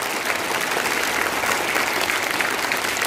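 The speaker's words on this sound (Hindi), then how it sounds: "आप लोग भी जोरदार ताली लगाएं" Loud, steady applause from an audience at an Urdu-medium school welcomes students, dense and continuous throughout with no voices over it.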